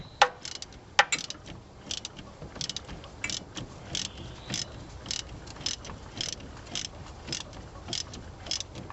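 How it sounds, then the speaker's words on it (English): A ratchet on a big extension clicks in steady rapid bursts, close and clear, while turning fittings during a power steering gear box replacement on a 1981 truck. "Got this big old extension, like I said, just so we can get this ratchet to turn"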